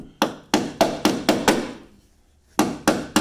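Hammer blows ring out on fasteners being tapped from the inner firewall of a 1965 Thunderbird convertible under restoration: five close, sharp metallic strikes in steady rhythm, a brief pause, then three more, with no talking.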